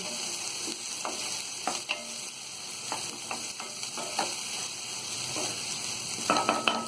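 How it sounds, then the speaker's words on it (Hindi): Onion and capsicum fry lightly in a pan for white sauce pasta, a soft continuous sizzle broken by a few sharp clacks of a stirring spoon against the pan. "प्याज को और शिमला मिर्च को हमें ज्यादा नहीं पकाना है, सिर्फ हल्का सा फ्राई करना है।"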